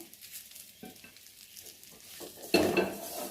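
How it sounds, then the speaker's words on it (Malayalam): Gooseberries cooking in oil with ginger, garlic and pepper are stirred in a pan, giving scattered scrapes and clatters over a faint sizzle that swells into a louder, denser frying burst near the end. "നന്നായിട്ട് ഇളക്കി കൊടുക്കുക"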